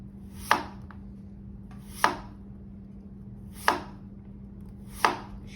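Four crisp knife strokes slice through a peeled, halved onion on a cutting board, cutting long julienne strips, each chop sharp and spaced about a second and a half apart over a low steady hum.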